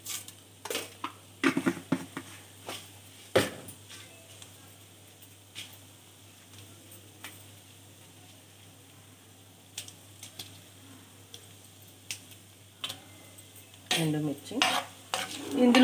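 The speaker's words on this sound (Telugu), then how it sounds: "తాలింపు గింజలు వేసుకోవాలి." Tempering seeds fry in oil in a pan for pulihora, giving a soft, faint sizzle broken by occasional spoon taps and clinks, growing busier near the end.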